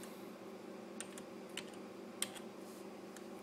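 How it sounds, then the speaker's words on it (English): A number is typed on a computer keyboard: a handful of separate key taps at an unhurried pace, close and fairly soft over a steady low background hum, with no talking. "go ahead and type in 8976."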